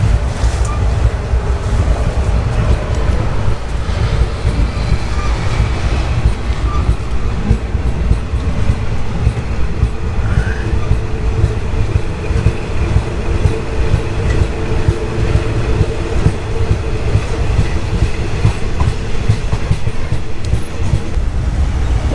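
Loud, steady rumble and rattle from inside a moving local Thai train carriage between Pattaya and Bangkok, windows fully open, with continuous rolling noise throughout and no voices.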